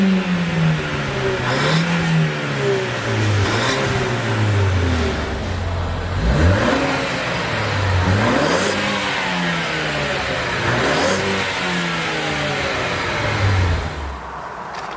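A car engine revs repeatedly, rising and falling in pitch over a steady idle, loud and close throughout, from a Ford Focus ST or 2018 Ford Fiesta ST hot hatch.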